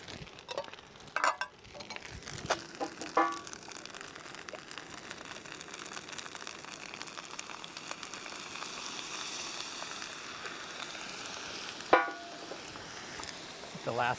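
Food sizzles in a small skillet on a Fire Maple camp stove outdoors, a steady soft crackle running throughout with a few clinks of a utensil near the start and around the twelfth second.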